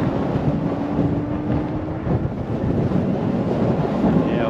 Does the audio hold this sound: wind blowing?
yes